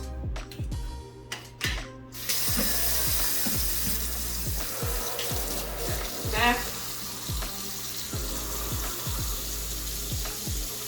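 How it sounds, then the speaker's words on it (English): Water runs steadily from a tap as conditioner is rinsed out of a wig, a close continuous splashing stream with repeated squelching handling of the wet hair. "I'm going to just go ahead and rinse it out"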